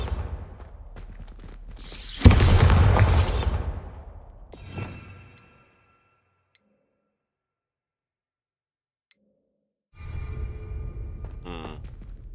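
A single Bombarda blasting spell bursts in Hogwarts Legacy as a loud, broad whooshing blast, followed by a shorter crackling echo, near silence, then renewed rumbling game noise.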